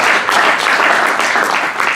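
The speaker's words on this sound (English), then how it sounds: "So give this man a huge round of applause." Sustained, dense applause from an awards-meeting audience, loud and even throughout without pause.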